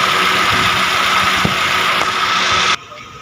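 An air conditioner unit runs with a steady mechanical hum and whir, loud and close, then cuts off abruptly near the end, leaving near silence.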